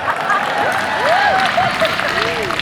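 An outdoor comedy show audience at a park applauds and cheers, steady clapping under a voice with rising whoops and shouts.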